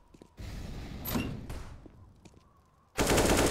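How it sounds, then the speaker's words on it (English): Rapid gunfire from a headshot in Counter-Strike on the Nuke map, in a competitive match: bursts of loud automatic shots with a thud, followed by a dense, loud final volley, with no talking. "Nice headshot from Bondik"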